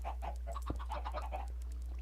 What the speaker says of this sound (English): we've got adult chickens here, staying on top of carpet